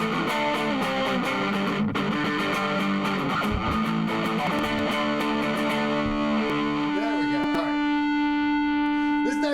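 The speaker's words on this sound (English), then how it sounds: "Let me just put the friggin' distortion on." Loud, distorted electric guitar in a punk rock setting, a dense saturated chord wash that rings continuously for the full stretch with a brief strummed change near the end, no voice.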